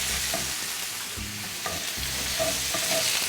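Steak sizzles steadily in a pan with butter, garlic and rosemary, a continuous bright frying hiss overlaid with soft, irregular stirring and scraping knocks.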